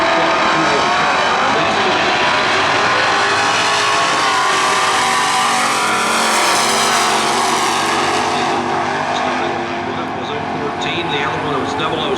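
A 1971 Chevelle wagon drag racing down the strip at a points race, its engine roaring loud and sustained with a rising then easing pitch, while an announcer talks over it.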